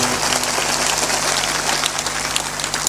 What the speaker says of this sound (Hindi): जोरदार ताली बजाइए पुलिस जवानों के लिए।